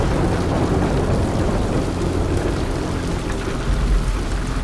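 Heavy rain pours steadily in a TV drama scene, a dense, loud, continuous wash of noise with low rumbling beneath and no speech.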